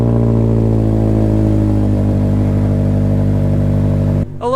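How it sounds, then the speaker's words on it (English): A dirt bike engine on a cold start runs loud and steady through a 3-inch stainless exhaust pipe with no muffler, a dense rumbling drone, then cuts off abruptly near the end. "we're gonna get a cold start. This is a 3-inch stainless pipe, no muffler."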